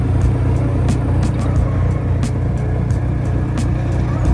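A BMW E46 drift car with four exhausts idles and rumbles heavily, a loud, steady low engine drone with faint ticking overhead, at an airport drift event, no talk.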